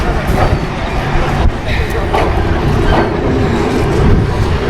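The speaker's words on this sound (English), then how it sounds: "Oh, here comes the train" A train rumbles past at close range with steady clickety-clack over the rails, loud and continuous throughout, on a misty, overcast, humid day near Brighton, with faint background voices.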